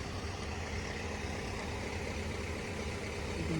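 A train engine approaches a level crossing in Cork, a steady low rumble with a constant mechanical drone, distant and even, no voices heard.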